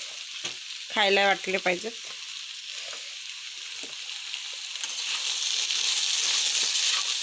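Chopped tomatoes frying with green peas in a pan, a soft steady sizzle that grows louder toward the end, with someone speaking briefly early on.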